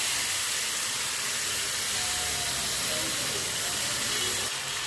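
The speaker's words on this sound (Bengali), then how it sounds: "মাখিয়ে রাখা মাংসগুলোকে কড়াইতে দিয়ে দেব" Marinated mutton hits a hot wok for Kolkata-style mutton biryani, setting off a loud, dense, continuous hissing sizzle that holds steady throughout, close up, with no speech.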